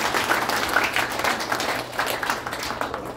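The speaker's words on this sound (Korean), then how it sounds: "우리 그런 뜻에서 우리 크게 박수 한번 해드리십시다." Large audience applauding at a Korean political gathering, a dense steady wash of clapping filling the whole stretch without pause.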